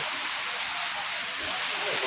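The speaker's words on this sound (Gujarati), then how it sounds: "આવો વરસાદ વરસે છે" Heavy rain pours down in a steady, dense hiss close by, with a faint voice murmuring beneath it.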